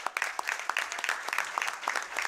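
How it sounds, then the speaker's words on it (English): Applause for honorees at a town council meeting, a short burst of sharp, close claps from a small group, brisk and uneven, with no talking over it. "One more round of applause for these guys."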